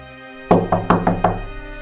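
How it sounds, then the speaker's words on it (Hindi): Five quick, evenly spaced knocks on a door, fairly loud and close, with no voices over them. "तभी दरवाजे पर दस्तक हुई।"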